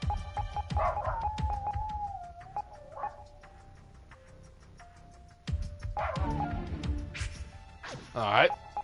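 Dog barking outdoors, heard faintly in the distance in a few short bursts under game music and sound effects.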